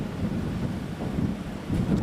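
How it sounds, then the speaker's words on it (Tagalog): Heavy typhoon rain and strong wind from Typhoon Emong in Zambales batter the microphone as a constant rushing, buffeting roar, with louder gusts near the end. "buong magdamag kaming nakaranas ng malakas na ulan na sinasabayan pa ng malakas na hangin"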